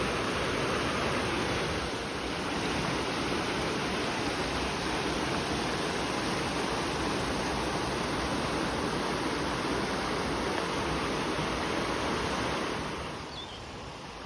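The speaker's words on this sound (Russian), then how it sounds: "Вот она, бурная горная река." A rushing mountain river in Andorra roars steadily and loudly at close range, a dense unbroken torrent of water noise that dips slightly near the end.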